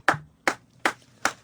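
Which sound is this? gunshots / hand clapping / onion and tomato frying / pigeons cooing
hand clapping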